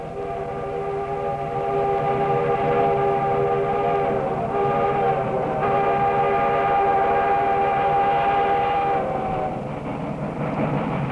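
A steam Mallet locomotive whistle blows long and loud with rich layered tones, holding steady for several seconds over the chuffing rumble of a train.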